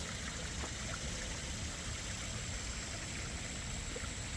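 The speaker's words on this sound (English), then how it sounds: "the beautiful sound of falling water." Water tumbles over rocks in a garden stream, making a steady, soft, constant rushing and trickling that continues evenly throughout without pauses.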